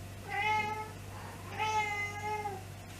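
A pet cat meows twice indoors, two clear drawn-out calls about a second apart, close and moderately loud over a faint steady hum.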